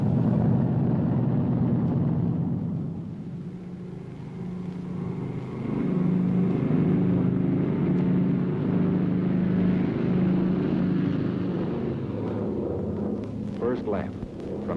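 Heavy bomber aircraft engines roar at takeoff for a 1944 mass flight, a loud, sustained low drone that swells after a brief dip and continues steadily throughout.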